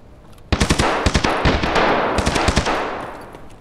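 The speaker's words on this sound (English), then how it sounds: "Someone shooting somebody down there." Rapid bursts of automatic gunfire crack out loud and close, a string of sharp shots firing in quick volleys with short pauses between clusters, ringing out over a reverberant tail.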